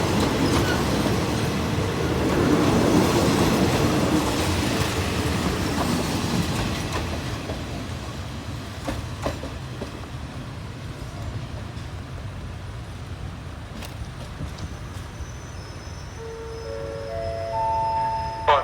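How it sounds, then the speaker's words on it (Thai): GEA 4538 locomotive hauling an express parcel freight train through Ban Pong station, a loud rumble with rhythmic wheel clatter that gradually eases, joined near the end by steady horn-like tones. "เป็นรถสินค้านะครับ ไม่รับการโดยสารนะครับ รับสินค้าอย่างเดียวนะครับ"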